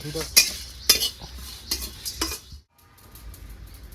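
Whole cumin, coriander, black pepper and dried red chillies are dry-roasted and stirred in a pan. Close metallic scrapes and clinks of a spatula come in irregular strokes over faint sizzling, then stop abruptly.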